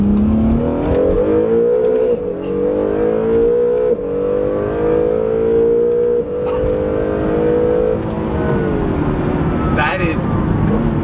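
A new Acura NSX hybrid supercar accelerates hard, its loud, close engine drone climbing in smooth sweeps with a layered whine and only brief dips between pulls.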